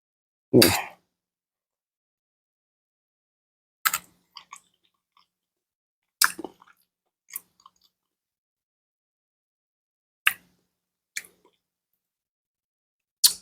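Person chewing a spoonful of a plant-based bean dish, with a few close, sparse, wet chewing and squishing sounds separated by silent pauses.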